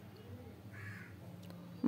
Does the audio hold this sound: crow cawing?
yes